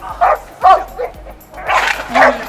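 A dog in attack training gives sharp, loud barks and yips close by, four or five bursts in quick succession.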